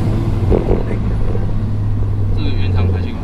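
A vehicle with its factory stock exhaust pipe runs on a mountain road between Shifen and Ruifang, producing a steady low engine drone under people talking.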